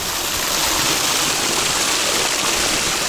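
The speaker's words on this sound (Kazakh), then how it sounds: "Мосттың суы сарылдап мына жерге ағылады." Water rushing from under a bridge into a collecting pool on the Ishim river, a steady, loud broadband roar like a stream or small waterfall, continuous and close, with no talking.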